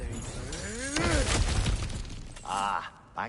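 Objects shatter and break with sharp cracking crashes during God of War Ragnarok gameplay, debris clattering among other game effects, with brief spoken lines heard around the impacts.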